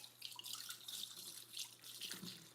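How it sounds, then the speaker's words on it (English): Canned black beans are rinsed under running kitchen tap water, a soft, uneven splashing and spattering that swells and dips in short bursts, fairly faint and with no one speaking. "I'm just going to rinse that in the water."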